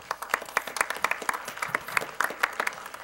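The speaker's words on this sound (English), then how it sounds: "let's please have a round of applause for the League of Women Voters for organizing this" Audience at a League of Women Voters candidate forum claps after the closing statements, a brief burst of dense, brisk applause close by, with no talking over it.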